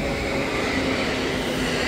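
A Blue Line train of the Washington metro pulls into a station platform, giving a steady, close rumble with a faint whine above it and no talk.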